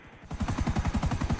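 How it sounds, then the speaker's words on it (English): Rapid automatic gunfire in GTA Online aimed at a police helicopter, a fast even burst of repeated shots that starts abruptly and continues loud and close. "I try shooting down the police chopper?"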